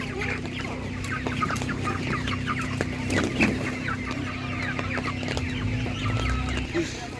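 Chickens cluck steadily at a village animal market among assorted poultry, a dense close-up chorus of clucks with a low steady hum and faint background bustle throughout.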